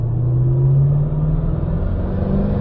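A Maserati 3200GT's twin-turbo engine runs hard on a dyno, a loud, close, sustained rumbling drone whose pitch climbs slowly as it holds under load, with no voices.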